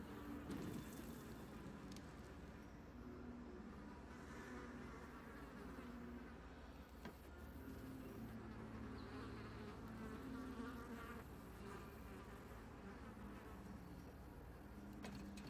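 A dense, steady insect buzz swarms from a thrown hive in the video game Darkest Dungeon, a continuous droning hum at moderate level with slight wavering, unbroken by speech.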